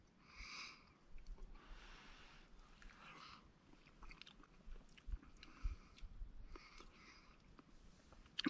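Chewing on a mouthful of creamy emergency-supply rice meal, soft irregular munching and mouth sounds close to the microphone, faint and unhurried with no speech.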